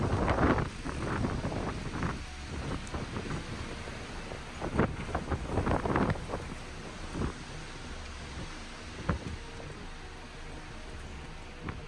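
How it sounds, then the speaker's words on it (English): Strong wind blows by the water on a boat, a rough continuous roar with gusty buffeting bursts hitting the microphone, waves and water churning faintly underneath. "It's pretty windy."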